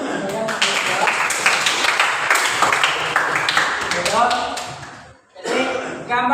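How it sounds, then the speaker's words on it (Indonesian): Classroom applause for students who answered a question, a burst of hand clapping that fades and stops briefly, with voices mixed in among the claps. "tepuk tangan untuk teman-teman saya yang menjawab"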